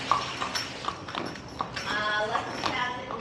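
Horse hooves clip-clop in a slow, regular rhythm on a New Orleans street, moderately close, under street ambience with voices talking nearby.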